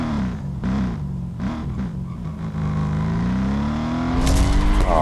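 Mercedes-AMG GT4 race car engine in Real Racing 3 climbing in pitch under hard acceleration, loud and steady through a few gear shifts, with a sudden harsh noise burst near the end.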